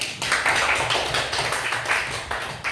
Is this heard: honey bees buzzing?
no